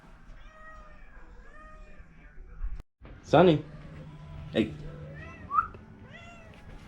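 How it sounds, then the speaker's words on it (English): A female cat in heat meows indoors near a window, with a drawn-out yowl followed by shorter cries, close and fairly loud, while a person talks to her in between. "This stupid cat's in heat."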